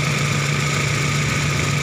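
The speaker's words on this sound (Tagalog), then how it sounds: "Buksan po natin ang makina mga bossing." A small-body Toyota car engine runs at idle, a steady, loud, close hum with a constant low drone and even mechanical whir, unbroken and with no talk.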